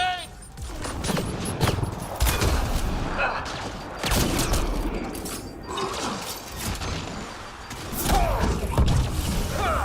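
Grenade blasts and heavy combat thumps in the sci-fi shooter Mass Effect: Andromeda, loud repeated booms and crashes every couple of seconds over dense gunfire and mechanical clatter, with voices speaking amid the noise.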